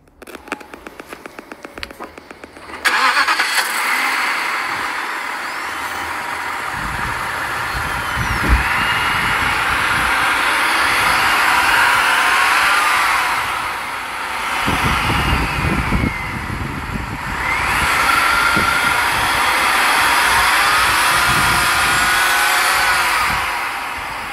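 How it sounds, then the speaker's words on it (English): A 2007 Alpina B7 engine runs and revs, a loud, steady, broadband roar that swells and dips a couple of times after a brief quieter start. "one thing that I really loved about this car is listen to the motor."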